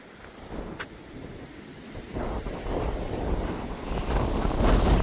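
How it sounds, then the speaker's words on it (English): Strong wind blows along the coast at the Bay of Fires, buffeting loudly and building in force, with whitecapped waves churning faintly beneath it. "The wind is absolutely whistling"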